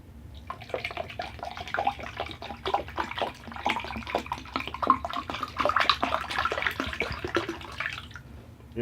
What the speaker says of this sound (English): And the cup's refilled again with the water.